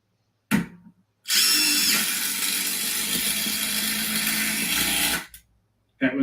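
A Makita power drill runs at full speed for about four seconds, a loud steady whine that starts and stops abruptly, with a brief mechanical burst just before it.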